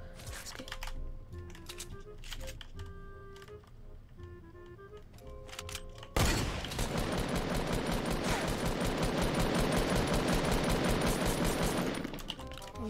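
Rapid, dense gunfire in Fortnite, including the hunter rifle, erupts midway and continues as a sustained loud barrage, preceded by quieter game sounds and clicking, with no voices over it.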